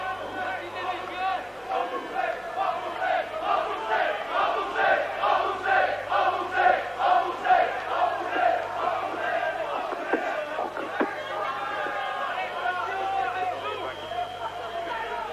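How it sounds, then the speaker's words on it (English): A football crowd at a European Cup second-round tie between Standard Liège and Dundee United shouts and chants in loud, pulsing waves, a dense roar of many voices. "The crowd, I'm told, somebody's translating for me, are shouting for the money back"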